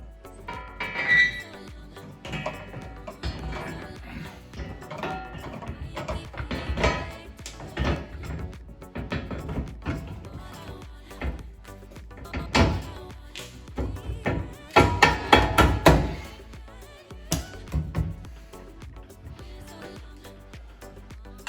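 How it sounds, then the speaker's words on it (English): A metal tow hitch bracket is fitted onto studs, over nylon washers, underneath a Tesla Model 3. Close, irregular clanks, knocks and rattles come in scattered bursts with short pauses between them. "we can go ahead and replace or install the hitch bracket onto the studs"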